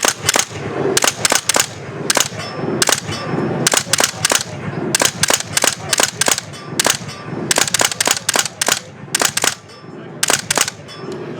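Rapid gunshots from a shooting simulator, fired in quick bursts of two to four sharp cracks with short pauses between, loud and close, repeating throughout against a background of indoor room noise and some faint voices.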